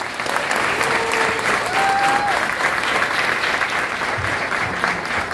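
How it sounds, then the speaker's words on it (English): A graduation crowd at Pharos Academy in the Bronx applauds, a dense, continuous wash of clapping that stays loud and even throughout, with a few faint cheers or whistles rising briefly within it. "clap it up one time"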